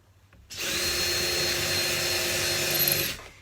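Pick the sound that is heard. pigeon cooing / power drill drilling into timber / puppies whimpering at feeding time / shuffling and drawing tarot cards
power drill drilling into timber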